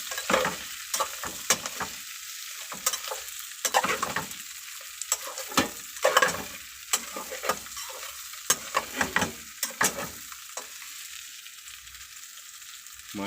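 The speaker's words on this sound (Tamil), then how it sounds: "நாம் அருமையாக ஃப்ரை பண்ணி எடுத்துக்கலாம்" Dried mala fish (karuvadu) frying in a little oil, a steady soft sizzle broken by frequent sharp crackles and stirring scrapes, close and fairly quiet.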